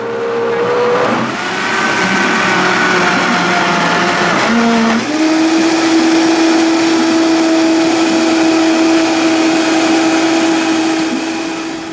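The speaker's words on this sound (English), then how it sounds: "pressing down on this tamper to push the ingredients into the blades, which are going to mix everything up" A high-power blender churns frozen bananas into ice cream while a tamper pushes them into the blades. It is a loud, continuous motor roar that shifts pitch early on, then settles into a steady high drone.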